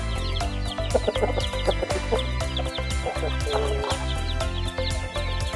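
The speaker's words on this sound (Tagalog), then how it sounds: "Nandito ang lahat ng mga sisiw niya." A hen clucks softly and repeatedly among her chicks, with high peeping from the chicks scattered throughout, close by on a backyard poultry setup.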